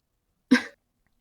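A single short, close cough bursts out of silence, sharp and brief, with nothing else around it.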